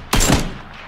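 A single sharp gunshot in the battle royale game PUBG, a sudden loud crack with a short decaying tail, no other shots following.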